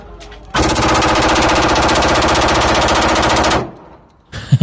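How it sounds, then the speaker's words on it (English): A homemade gun fires one long, loud, continuous burst lasting about three seconds, close and harsh, then stops abruptly into quiet with a brief noise at the end. "इंशाल्लाह अभी इससे फायर करते"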